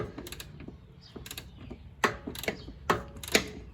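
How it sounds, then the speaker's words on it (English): A 3/8-inch Icon torque wrench from Harbor Freight ratchets and clicks while rear shock bolts are tightened, giving a run of sharp close mechanical clicks in uneven bursts, the louder ones toward the end, with no talking. "I'm using a 3/8 inch Icon Harbor Freight torque wrench."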